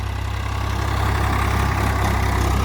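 Modified Ford 3600 tractor engine idling steadily nearby, a continuous low diesel rumble with a faint rhythmic chug and no pauses, heard alone without talk.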